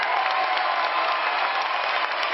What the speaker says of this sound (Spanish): Aplausos y gritos para el papá número uno.